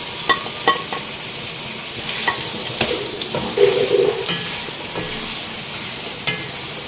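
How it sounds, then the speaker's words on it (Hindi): Finely chopped onions fry in a pot with a steady, moderate sizzle, broken by a few sharp clinks and scrapes of a utensil stirring against the metal. "यहाँ पे सबसे पहले हम अपनी प्याज को फ्राई कर लेंगे, जो हमने बारीक काटी हुई है।"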